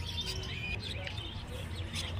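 Many small birds chirp and tweet together at a busy bird market in Garia, a dense, steady chorus of overlapping calls with no clear talk.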